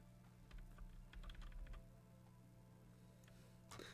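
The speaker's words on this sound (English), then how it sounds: "This is my keyboard thing." Keys clatter in quick, uneven bursts on a computer keyboard at home, with a steady low electrical hum underneath and a brighter click or rustle near the end.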